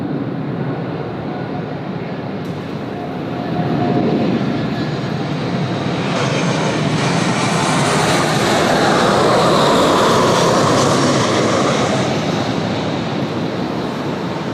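An airliner arrives at Sydney Airport, its jet roar swelling from a distant rumble to a loud, broad rush that peaks midway and then holds, with no talk over it.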